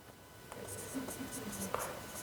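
Marker or chalk scratches on a board in a classroom setting, a few brief writing strokes, close and moderately faint, with a low hum underneath.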